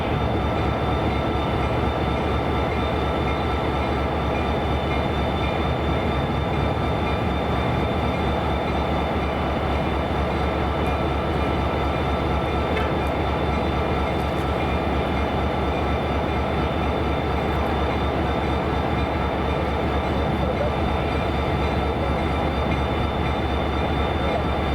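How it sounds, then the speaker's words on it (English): Florida East Coast Railway Santa train pulling out of Fort Pierce, its diesel locomotive rumbling steadily with a sustained engine drone and rolling car noise for the full stretch, no voices. "At around 1:10 p.m., the FEC Santa train began to depart Fort Pierce"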